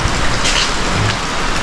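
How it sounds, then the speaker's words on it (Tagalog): Heavy rain pours steadily and loudly, a dense continuous hiss of drops drumming on surfaces with no voices over it. "Grabe yung ulan, no?"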